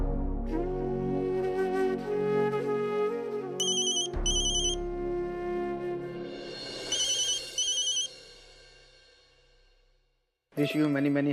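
A mobile phone ringtone chimes in repeated bursts, loud and close, over a melodic music background, then cuts off before a sharp loud burst at the end.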